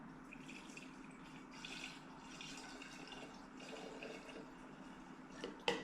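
Isopropyl alcohol poured into a measuring cup, a soft continuous trickle of liquid running for several seconds at low volume, ending in a brief clatter.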